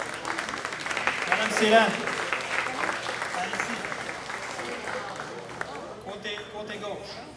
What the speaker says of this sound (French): On peut les applaudir au fur et à mesure.